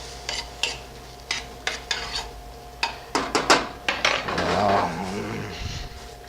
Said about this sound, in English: So we'll mix it up a little bit with our trusty spoon here